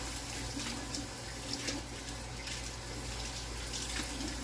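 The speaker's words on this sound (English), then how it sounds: "drizzle in some warm water, wring out." Warm water running from a tap to soak a tea cloth for covering pizza dough, a steady close splashing hiss of flowing water with a low hum underneath, no talking.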